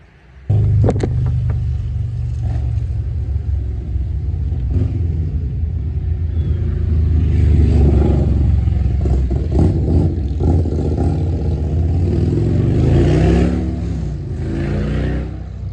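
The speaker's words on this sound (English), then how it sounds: "Watch out for motorcycles." Loud engine rumble with revving and clattering as motorcycles pass close by, the roar swelling and fading over several seconds; no talking.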